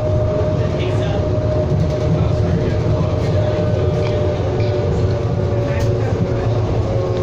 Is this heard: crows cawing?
no